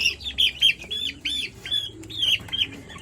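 Native chicken chicks about 45 days old in a grower pen peep loudly and continuously, with repeated high chirps close to the listener and faint clucking underneath, and no voices.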